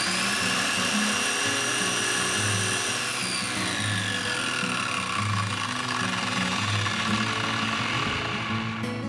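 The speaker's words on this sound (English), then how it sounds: "You hear that little drrrr sound? That is from using cheap bearings." A cheap Amazon track saw runs continuously with a steady motor whine and a low, uneven rumble from its cheap bearings, close and loud throughout with no talking.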